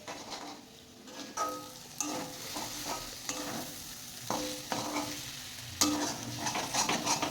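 Egg fries together with potatoes and vegetables in a wok, a close sizzle broken by repeated scraping stirs of a spatula at an uneven rhythm.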